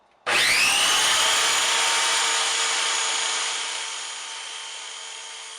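A power tool starts abruptly and runs at full speed, cutting an MDF guitar body template with a loud, sustained high-pitched whine that eases slightly toward the end, close by with no talk.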